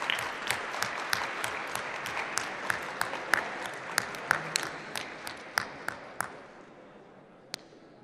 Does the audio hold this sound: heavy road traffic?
no